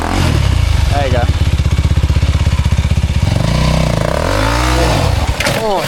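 A dirt motorcycle labours at low revs climbing wet rocks, its engine a steady, close chugging pulse with a few short revving swells and some clatter from the bike.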